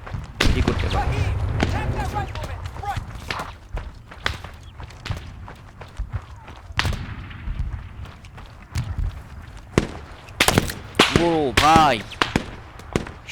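Sharp gunshots from the video game Arma 3 crack out in scattered single and clustered bursts, some close and loud, others sparse, mixed with thuds and footstep-like movement.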